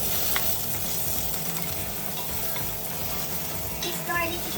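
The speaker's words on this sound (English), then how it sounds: "It's time to saute our garlic, onion, and tomato." Garlic sautéing in olive oil in a pot, a soft steady sizzle with light stirring scrapes, close and fairly quiet.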